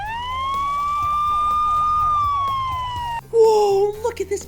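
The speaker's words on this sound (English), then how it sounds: "An ambulance! Listen to the sound it makes." An ambulance siren wails loud and close in a steady, rising and falling tone that cuts off after about three seconds. A few short, bright tones follow.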